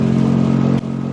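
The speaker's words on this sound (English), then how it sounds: "The V8 in this thing with the air intake from TRD and the exhaust is ridiculous. It sounds so good" A 2018 Toyota Tundra 1794 Edition V8 fitted with a TRD air intake and exhaust revs hard and close, a steady throaty roar that briefly dips before settling back into a loud rumble.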